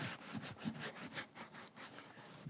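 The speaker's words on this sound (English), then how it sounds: "I'm just going to rub out any excess balm that might be on here" Cloth rubbing excess leather balm off leather cowboy boots, a soft, steady series of close scuffing strokes with a repeating rhythm, fairly faint and alone with no talking.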